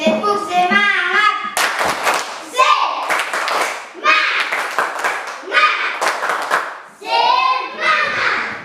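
Schoolchildren in a classroom clap a rhythmic encouragement pattern, the sharp claps coming in short bursts mixed with loud chanting children's voices throughout.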